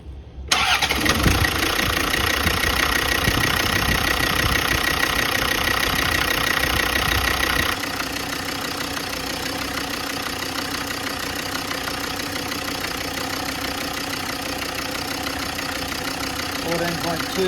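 A Land Rover Discovery 2, just fitted with a new alternator and belt, cranks and fires up, roaring loud at first before settling into a steady, close idle.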